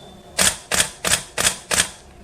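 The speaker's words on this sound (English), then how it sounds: "so you know how much noise the mechanical shutter actually makes" A DSLR camera's mechanical shutter fires five crisp clicks at an even, steady pace, recorded very close to the body, each a short sharp snap with silence between.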